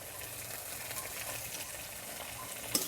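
Fish curry spices with salt and turmeric stirred in a pan for village-style gurjali fish, a steady close sizzle with soft scraping and a small clink near the end.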